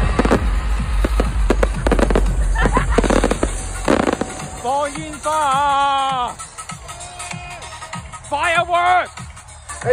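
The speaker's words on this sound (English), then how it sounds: "Fireworks!" Fireworks crackle and bang in a dense barrage at the last night of BBC Radio 1's Big Weekend festival, then excited voices cheer and shout loudly over scattered pops.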